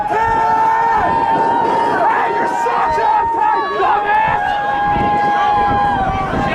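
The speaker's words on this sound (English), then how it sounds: "Crowd really letting him hear it." A large stadium crowd at a BYU vs Arizona game roars and jeers continuously during a conversion attempt, a dense wall of voices with whistling tones rising and falling throughout.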